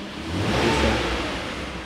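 A Marussia B1 supercar engine, started for the first time in close to a year, revs up with a loud, steady mechanical roar that swells and holds near the microphone, with no voices.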